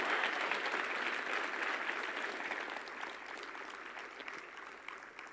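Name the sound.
audience applause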